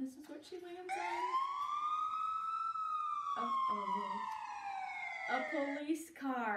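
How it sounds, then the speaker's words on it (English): A police siren wails in one long rising-and-falling sweep that holds loud for several seconds, with brief voice-like sounds before and after it. "A police car."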